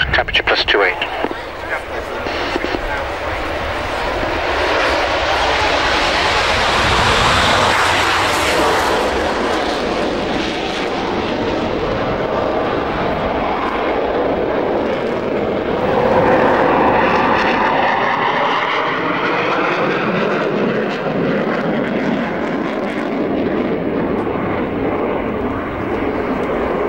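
A Hungarian MiG-29 jet at an airshow roars loudly and steadily through its engine run, a dense broadband whine and rumble that shifts in pitch, with radio voice chatter heard over it.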